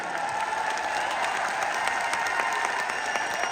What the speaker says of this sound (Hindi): इतनी बार तालियां बजवा ली इन्होंने।